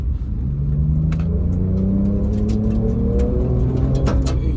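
A Ford Ranger Raptor pickup's engine rumbles and revs steadily while driving off-road in four-wheel drive over rough ground, with occasional knocks and rattles from the bumpy terrain.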